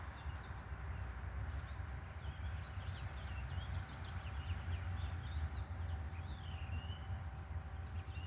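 Birds sing at sunrise, with repeated chirps and whistled phrases scattered across the scene over a steady low rumble, fairly distant and soft.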